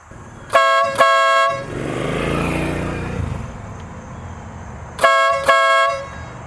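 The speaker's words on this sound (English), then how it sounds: "One of the coolest features on this bike is these ridiculous air horn. It's a train horn." Two loud blasts of a deep, train-style air horn on a Harley-Davidson Low Rider motorcycle, a pause with engine rumble between, then two more blasts, very close and piercing.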